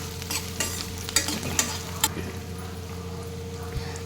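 Garlic, cashews, ginger, cinnamon, cloves, cardamom and pepper fry in a pan for palak chicken sambar, sizzling steadily up close as a spoon scrapes and taps against the pan in quick strokes.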